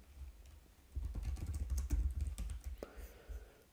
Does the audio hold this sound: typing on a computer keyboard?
yes